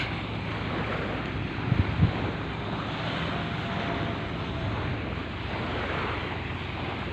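Sea waves wash steadily along the beach at the Armutlu holiday village on a calm morning as a ferry departs from the pier, a continuous broadband roar with wind buffeting the microphone and no voices.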